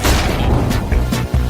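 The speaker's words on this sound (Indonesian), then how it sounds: "Wow, itu ledakan besar." A loud boom bursts from a chocolate fountain fondue experiment, followed by a few heavy thumps and crashes in quick succession, close and full, with no voices.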